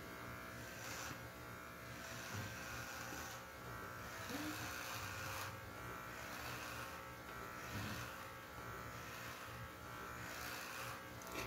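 An electric hair clipper buzzes continuously at low volume during a home haircut, a steady motor drone with slight pulsing variations and no clear speech.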